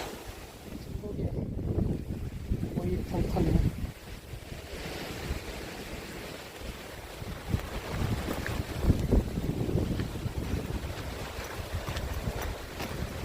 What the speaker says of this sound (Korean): 바람도 많이 불고 비도 내리고 있습니다